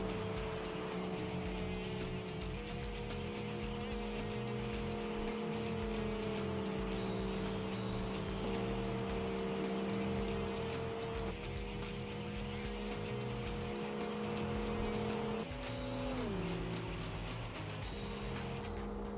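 Engines of race cars, including a Nissan 350Z, in the Wangan Midnight street-racing video game, droning steadily and loudly with shifting pitch and a sharp drop near the end, no talk over it.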